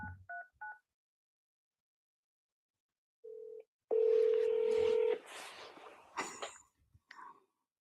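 Telephone keypad tones from a phone call: a few quick dual-tone beeps at the start, then a longer tone burst, followed by noisy line sounds and muffled clicks.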